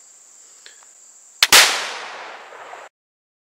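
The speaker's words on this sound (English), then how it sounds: "So let's go ahead and try to shoot this fouling load and see what happens." A .50 caliber flintlock rifle fires a light fouling load: a small flash-pan crack, then the main shot booms loud and close, with a long decaying rumble and echo afterward.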